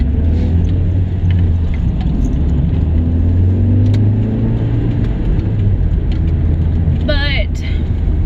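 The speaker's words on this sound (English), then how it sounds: "This traffic moving." Road traffic moves past in a steady, continuous low rumble of engines and tires, with a brief rising whine near the end and voices faintly present.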